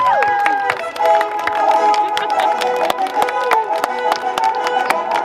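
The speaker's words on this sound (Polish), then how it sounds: "I jeszcze raz serdeczne brawa" A crowd applauds race winners at a university cross-country running championship awards ceremony, dense clapping and cheering throughout, with a voice over a loudspeaker and tonal music or feedback ringing above the noise.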